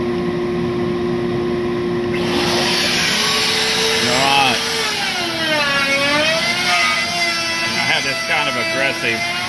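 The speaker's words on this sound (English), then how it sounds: "aggressive and it's cutting. And that's just a router bit." A CNC Shark HD router with a plain router bit cuts blue foam, its loud, steady high whine and whir starting abruptly and running continuously up close, with a voice talking over it.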